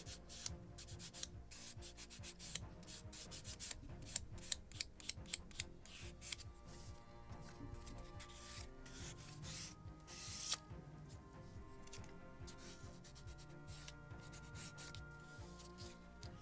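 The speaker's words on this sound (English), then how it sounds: "And polishing with a Scotch-Brite." A small wooden or metal part for a 1776 gunboat Philadelphia ship model being polished with a Scotch-Brite pad, giving steady, close scratchy rubbing strokes with short sharper scrapes, continuous throughout with no talking.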